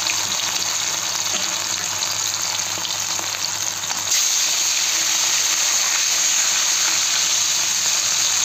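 Fish sizzles steadily in a hot pan of oil, a loud, dense hiss of frying that carries on throughout with no talk, growing slightly brighter partway through.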